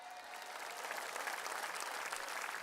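An audience claps warmly for a singer after a song on a TV show stage, a dense, steady wave of applause that swells slightly and holds.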